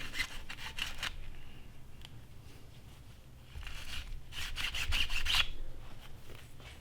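An oiled chamber bore brush scrubs inside the chamber of a Marlin lever-action rifle, giving close, soft scraping strokes that come in rhythmic bursts and grow louder toward the end. No voices.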